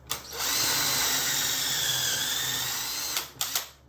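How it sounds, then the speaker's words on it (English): A power drill drilling pocket holes whines steadily for about three seconds at close range, then winds down with a couple of short bursts. "I should be able to drill those 2 holes."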